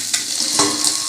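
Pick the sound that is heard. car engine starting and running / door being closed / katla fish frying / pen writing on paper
katla fish frying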